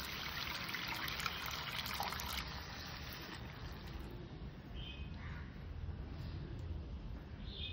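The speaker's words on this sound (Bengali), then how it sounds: "এবার আমি এখানে পরিমাণ অনুযায়ী জল দিয়ে দিলাম।" Water poured into a fried spice mixture in a pan while cooking a Bengali fish curry, a faint, steady trickle and splash that fades to a quiet wash.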